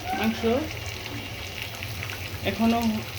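Sliced onions fry into crispy beresta in hot oil in a village kitchen, giving a steady, soft sizzle and crackle, with a voice speaking briefly at the start and again near the end.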